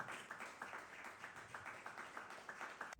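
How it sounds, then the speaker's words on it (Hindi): Audience at an electrohomeopathy doctors' medical association gathering in Sirsa, Haryana, claps in a faint, steady, rhythmic beat, heard from a distance. "ईडीएमए वर्ल्ड के नाम पे ताली होनी चाहिए।"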